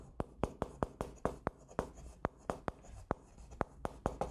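Marker or chalk writing on a board in an accounting lecture: a rapid run of sharp, distinct tapping strokes and short scrapes, close and fairly quiet, with no talking.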